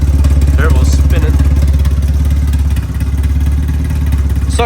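A drift car's engine runs steadily close by, a low rumbling idle with faint turbo whine layered over it, continuous for a few seconds without talk.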